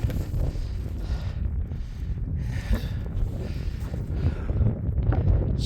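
Wind gusting steadily at a frosty wild camp while a tent is packed away, a broad, rough low rumble buffeting close to the microphone throughout, with no talking.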